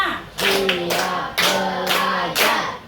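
A classroom of students claps in a counted pattern, bursts of hand claps arriving in three roughly evenly spaced bursts while voices chant along between them.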